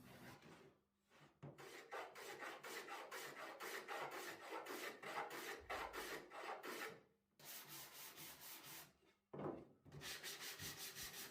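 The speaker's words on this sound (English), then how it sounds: "I just go over any sharp edges using the sanding pad with some 120 grit sandpaper." Wood edges being sanded with a sanding pad and 120 grit sandpaper on a raised dog feeding station: steady, close rasping strokes that run continuously, with two brief pauses.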